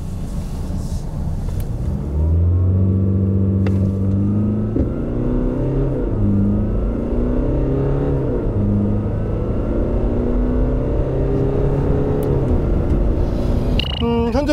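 2018 Jaguar XF 20d 2.0 AWD diesel saloon accelerating hard from inside the cabin, engine note rising through several gears with clear shifts, loud and continuous, no talk.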